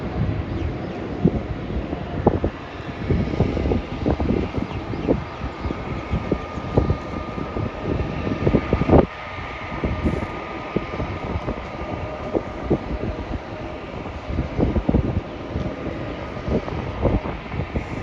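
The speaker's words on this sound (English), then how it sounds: "That's a China Southern Airlines flight coming in from Guangzhou." A China Southern Airlines airliner arriving from Guangzhou at Melbourne Airport makes a continuous broad rumble and roar, with wind gusting against the microphone and no talk over it.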